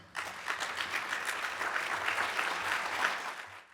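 Audience applause at a university lecture event, a short burst of dense clapping from a seated crowd that swells quickly, holds steady, then tapers off.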